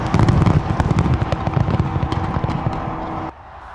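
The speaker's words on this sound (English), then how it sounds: "Australia's signature fireworks over Sydney Harbour Bridge helped get the New Year's celebrations underway with a bang" New Year fireworks over Sydney Harbour Bridge: a dense, loud barrage of rapid bangs and crackles rolling on continuously, then cutting off abruptly near the end.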